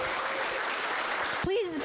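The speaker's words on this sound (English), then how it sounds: "Big round of applause again for the Folk Roots Ensemble." Brief burst of audience applause for the Folk Roots Ensemble at the close of a gathering, steady clapping that cuts off as a voice begins speaking.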